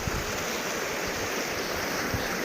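A stream that has to be waded across on foot rushes steadily in a broad, continuous wash, close and fairly loud, with no voices over it.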